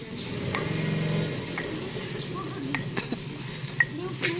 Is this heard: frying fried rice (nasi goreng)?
yes